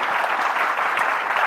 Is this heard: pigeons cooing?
no